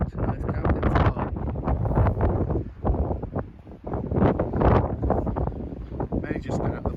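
Gusty wind buffets the microphone at a remote camping spot in Scotland, loud rumbling surges rising and falling, with a person talking through it.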